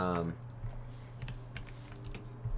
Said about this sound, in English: Typing with one arm is the way forward.